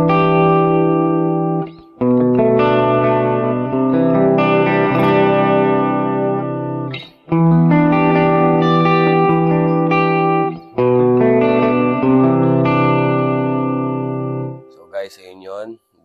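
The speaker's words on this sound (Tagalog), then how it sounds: "Meron tayong reverb dito sa Boss ME90." An electric guitar played through a Boss ME-90 multi-effects unit with reverb and chorus rings out in sustained, shimmering chords, each phrase held for several seconds with short breaks between them, ending in a fading tail.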